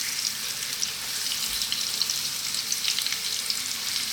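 Chicken wings frying in a pan on a stove-top, a continuous soft hissing sizzle with small crackles, heard close and steady with no speech.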